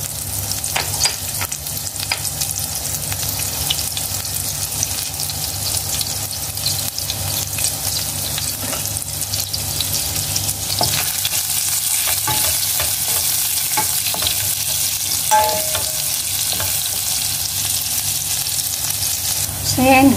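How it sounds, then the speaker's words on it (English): Chopped garlic sizzles loudly in a pan for a chicken sopas, with steady frying hiss and repeated scraping stirs of a utensil, close and continuous. "ilagay na natin yung chopped garlic"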